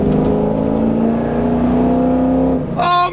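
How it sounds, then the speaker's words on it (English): A warmed-up GM car engine revs as gas is given, a loud close drone climbing steadily in pitch for a couple of seconds before dropping away, followed by a brief burst of other noise. "All right, now it's warmed up a little bit. We'll give it a little bit of gas."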